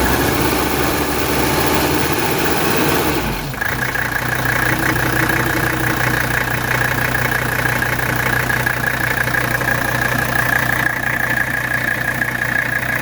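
A 1985 Mercedes 300D diesel idles steadily and loudly close by for the whole stretch, its tone shifting slightly around a brief change early on, with no talking over it.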